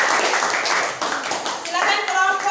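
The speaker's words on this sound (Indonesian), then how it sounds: "beri aplaus dulu untuk kelompok" Classroom audience applauding a presenting group during a teaching performance assessment, with dense, steady clapping throughout and voices audible underneath.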